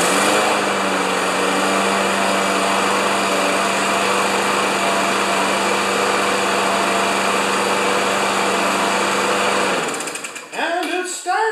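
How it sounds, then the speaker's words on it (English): A small Yard Works lawn mower with a Briggs & Stratton EX engine runs at a steady, loud, droning idle for nearly ten seconds, then cuts out, followed by a voice speaking briefly. "And it started."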